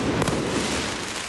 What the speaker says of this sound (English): Protesters shooting fireworks towards riot police